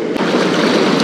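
Whitewater rapids on the Main Salmon River churn in a dense, continuous roar of rushing, bubbling water, loud and close, with wind noise and no talk.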